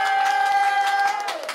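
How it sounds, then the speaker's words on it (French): Brief burst of crowd clapping and cheering at a customary wedding (dowry ceremony), close and fairly loud, with a steady tone sounding underneath. "On applaudit."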